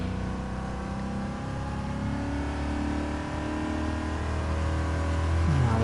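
A race car engine held at full throttle in GT Sport, a loud, steady, buzzing drone that climbs slightly in pitch toward the end, with no talk.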